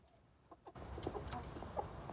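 A Taiwanese fighting-breed rooster clucks nearby in a few short, distinct calls, starting after a quiet moment, over a faint outdoor farm background.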